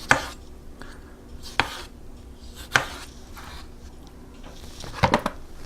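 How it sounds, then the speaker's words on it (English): A knife slicing tomatoes into wedges on a cutting board, a few sharp close taps and chops spaced irregularly, with a quick cluster of cuts near the end and soft rubbing between. "so you sliced it in half, and then you just slice your tomatoes"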